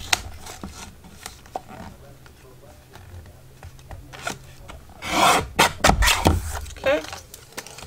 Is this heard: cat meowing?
no